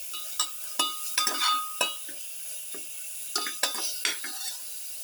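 A spoon scrapes and clinks against a pan while black pepper garlic tomato pilaf is sautéed and stirred. Quick metallic taps and stirring come in short bursts over a soft, steady sizzle.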